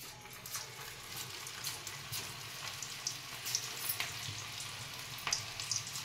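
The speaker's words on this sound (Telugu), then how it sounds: "నూనె చిట్టుతూ ఉంటుంది, నెమ్మదిగా వేసుకోండి." Cauliflower pakoda deep frying in hot oil: a constant soft bubbling sizzle with scattered sharp crackles and pops, fairly quiet and steady throughout.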